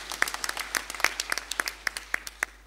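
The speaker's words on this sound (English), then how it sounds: "round of applause." An audience at a Nation Media Group annual general meeting claps steadily, the individual claps distinct and evenly paced, a moderate round of applause in a hall.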